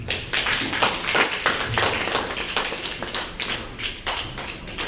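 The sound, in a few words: audience applause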